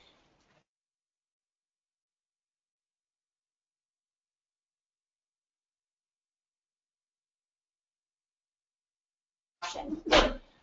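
A single short sneeze comes after a long stretch of near silence during a talk on Nebraska adoption law, followed closely by a brief spoken response.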